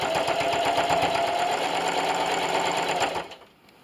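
Sewing machine running steadily and fairly loud while quilting a mirrored heart table runner, a continuous mechanical whir that stops abruptly near the end.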